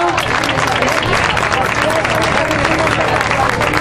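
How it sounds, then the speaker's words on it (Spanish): A crowd at the Turre Viejo village fiesta coronation of a festival queen in 2011 applauds, with dense, steady clapping and voices mixed into it throughout. "Un aplauso."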